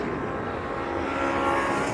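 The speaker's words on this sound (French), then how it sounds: "Il y a un avion tous les 30 secondes." A fixed-wing airplane passes overhead near a motorcycle event, producing a steady, broad engine roar that stays loud and swells slightly toward the end with no talk.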